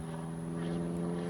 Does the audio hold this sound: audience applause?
no